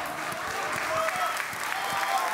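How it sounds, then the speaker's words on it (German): An audience at a cheating curl weightlifting competition at a fitness expo claps in a continuous dense ovation, fairly close and steady, with voices faintly mixed in. "Heute einmal richtig Applaus."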